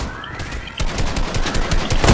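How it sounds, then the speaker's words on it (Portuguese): Rapid video game gunfire rattles in quick repeated bursts, loud and close, building after a brief quieter start and ending with a heavier blast, with no talking. "Tiros."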